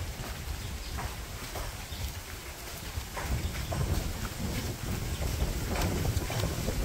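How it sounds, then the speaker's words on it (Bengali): Strong wind ahead of heavy rain in a village roars steadily into the microphone, a dense continuous rush with buffeting gusts that grows slightly louder midway, with no voices. "বাতাস ছাড়ছে প্রচুর পরিমাণে বৃষ্টি আসবো দেখে এই বাতাসটা ছাড়ছে"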